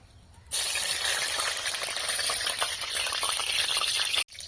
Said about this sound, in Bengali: কড়াইতে সাদা তেল দিয়ে রেখেছি